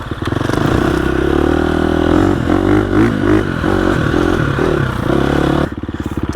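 A 2021 GasGas EX 350F dirt bike rides along in second gear, its engine note steady and loud with chattering, clattering mechanical noise throughout and a brief change in tone near the end.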